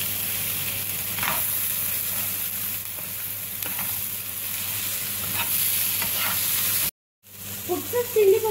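Chicken curry sizzles and fries steadily in a pan while being stirred, with scraping strokes of the spoon; the frying stops abruptly near the end, then resumes with louder spattering.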